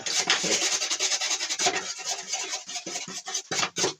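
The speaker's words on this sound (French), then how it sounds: "un petit coup de brosse métallique" A wire brush scrubs a metal part in quick back-and-forth strokes, a close, gritty rasp with short pauses between strokes.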